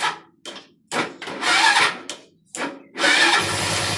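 A motorcycle with a carburetor and a shortened throttle cable sputters through several short cranking bursts before catching and settling into a steady idle, close by with no talk.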